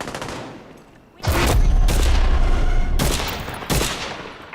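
Gunfire in the video game Just Cause 4 comes as loud bursts of rapid shots, a few seconds of heavy firing broken by short gaps, close and dominant.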